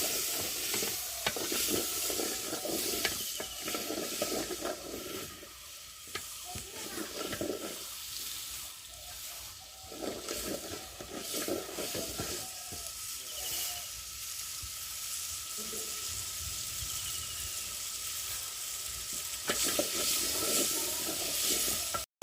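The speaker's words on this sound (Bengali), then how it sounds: "আলু আর করলা এখন ভালোভাবে কষিয়ে নেওয়া হবে" Potato and bitter gourd sizzle steadily in hot oil on a clay stove, with a continuous loud frying hiss and repeated scraping stirs throughout, no voices.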